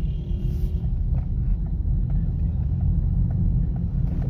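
Car engine running on LPG, idling low and steady in a continuous close rumble with faint cabin wind noise, no voices.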